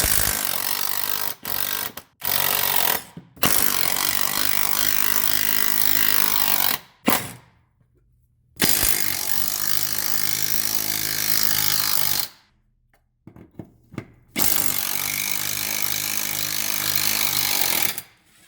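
A power tool, likely an impact-style wrench, removes 14 mm bolts and a bracket from the engine mount of a 2009 Subaru Forester. It roars in long, loud bursts separated by short quiet gaps.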